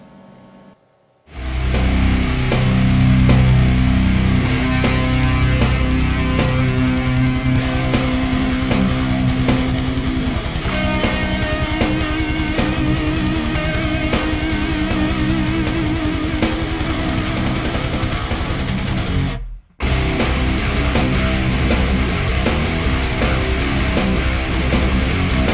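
Heavy distorted metal guitar plays a section of a song, dense and loud throughout, with a brief break near the end before the riff resumes.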